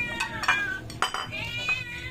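A cat meows softly a few times near clinking dishes, pots and cutlery, faint and close amid background clatter, with no clear talking.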